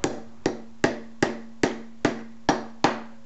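A new cap is hammered onto a Nelson Rain Train 1865 lawn sprinkler braced on a solid bench. Eight sharp, evenly spaced metallic blows ring close and loud, each with a short resonant tail, and nobody speaks.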